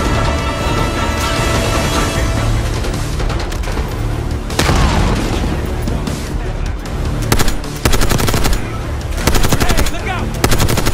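Sustained machine gun fire in the video game Call of Duty Black Ops 6, loud and dense, with rapid bursts, booming impacts and louder volleys late in the firefight.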